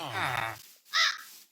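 Crows in the Minecraft Create modpack give a short caw following a brief stretch of talking, a single close call near the end.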